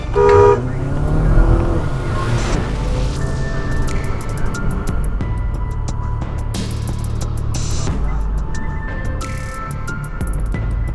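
A car horn honks from inside a vehicle at a jaywalker crossing against traffic, the blast coming early over loud road and engine rumble, followed by steady driving noise.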